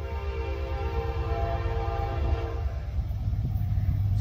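Westbound CSX freight train made up of tank cars, rumbling past close by as a steady, loud roll with a sustained horn-like tone layered over it, no voices.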